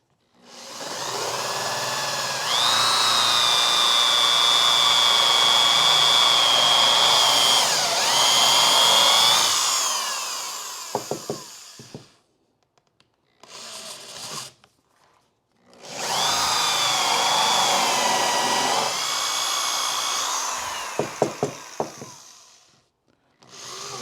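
A power drill fitted with a 3/4 inch mortise bit bores into wood for a carpenter bee trap, running in two long, loud, whining bursts separated by brief clatter and a pause, with no talking.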